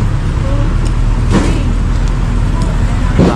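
Cars and traffic on a city street with vehicles parked on the sidewalk, a loud continuous roadway rumble with passing engines and occasional brief knocks, heard up close.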